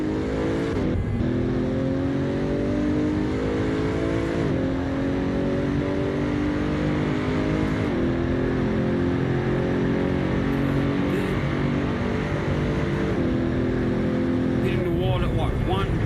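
A hypercar engine in the Assetto Corsa racing game drones loudly and steadily while running flat out, its pitch climbing and then dropping back at each gear change across the run.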